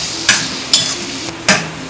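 Garlic being sautéed in a pan for pav bhaji: a steady oil sizzle broken by three or four sharp scrapes of a spoon stirring against the pan, close and fairly loud with no talking.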